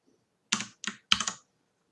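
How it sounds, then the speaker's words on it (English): Three short bursts of key presses on a computer keyboard as a username and password are typed in, close and clear with brief pauses between them and no talking. "So put in the username and password you just wrote"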